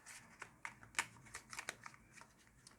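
A deck of cards being shuffled in a series of quick papery riffles and flutters, close and fairly quiet, with no speech.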